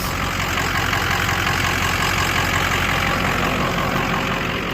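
A 6.0 diesel truck engine, on 46-inch tires with a new rotor, brake pads and hub assembly, idles steadily while warming up, a loud, continuous low rumble that holds even throughout with no talking.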